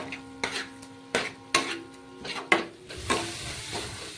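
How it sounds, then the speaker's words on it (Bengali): Spice paste with salt frying in a pan for a spicy tilapia curry, with sharp scraping stir strokes every half second or so over a soft steady sizzle, close and moderately loud. "নুন দিয়েও আমি মশলাটাকে আরেকটু ভেজে নেব।"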